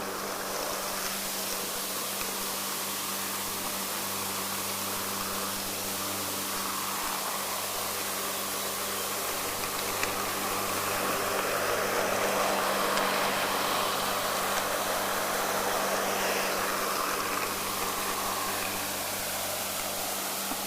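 A lawn mower cuts grass outdoors, giving a continuous broad engine roar with a low steady hum beneath it, moderately loud and unbroken, with no voices.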